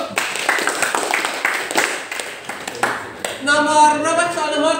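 Clapping breaks out in a classroom, a few seconds of uneven hand claps from students at moderate distance, followed by a teacher speaking.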